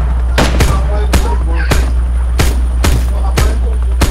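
Gunfire in a video game sounds as sharp, loud single shots spaced roughly every half second over steady game background noise, with no talking.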